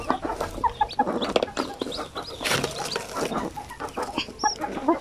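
Newly hatched pure Basilan chicks peep in quick, high bursts while a hen clucks nearby, the calls overlapping in a busy, close-up jumble.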